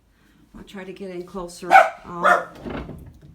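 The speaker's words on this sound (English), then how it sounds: "Sorry about the dog barking." A house dog barks a few times, loud and close, during a home tour, with someone speaking over it.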